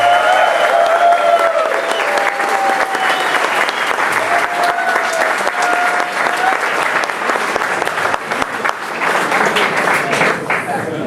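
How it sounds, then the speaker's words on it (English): Dense, loud audience applause at a soccer club's 40th-anniversary ceremony honoring several people, steady for about eight seconds and then thinning slightly, with a few whoops and cheers rising over the clapping. "If everybody could give them a round of applause."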